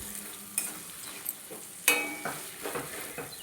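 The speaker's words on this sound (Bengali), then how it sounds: "পেঁয়াজ দিয়ে দিলাম। পুরো লাল লাল করে এটা ভেজে নিতে হবে।" Onions fry in hot oil for birista in a chicken biryani, a quiet steady sizzle broken by a few sharp scrapes and clinks of a spoon stirring the pan, with no voices.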